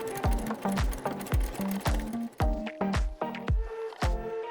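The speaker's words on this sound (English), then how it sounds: "My next step will be to stitch the lining together." A sewing machine stitches the lining of a small robe for a collectible statue, running in a close, steady rhythm of quick mechanical thumps and whirs with brief pauses between them.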